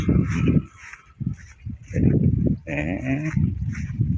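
Goats bleating in a goat pen, several loud nasal bleats close by in quick succession with brief pauses between, overlapping one another and heard without talk.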